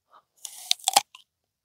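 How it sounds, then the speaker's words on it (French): A crisp bite into a raw blood apple, a red-fleshed organic variety: one sharp crunch followed by a few short crackling chews, close and clear with nothing else around it. "je vais croquer dedans si vous voulez voir un peu à quoi ça ressemble une pomme sanguine"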